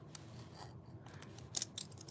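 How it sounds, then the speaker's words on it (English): Scissors cut out stickers nearby with a few quiet, crisp snips in an otherwise hushed room. "Okay, I cut almost halfway through Dalzai"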